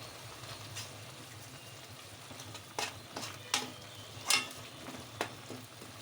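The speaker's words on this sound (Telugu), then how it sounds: "అడుగు మాడిపోకుండా తిప్పుతూ ఉండాలి పచ్చి వాసన పోయే వరకు ఫ్రై చేసుకుందాం" Chicken curry masala being stirred and fried in a pan, a low steady sizzle under scattered scraping and clinking of the spoon against the pan, a few sharper strokes standing out, no talking.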